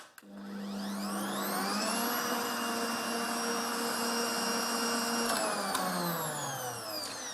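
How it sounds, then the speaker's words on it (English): Electric whisk beating egg whites and sugar into firm meringue: a loud, steady motor whine that starts abruptly, holds level, then slows and drops in pitch near the end. "And now put it back onto whisk until it's good and firm"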